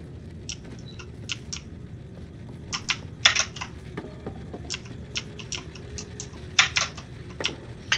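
Computer keyboard keys tapped while playing the game Little Nightmares, a close, irregular patter of short clicks in scattered bursts over a low background hum, with no talk.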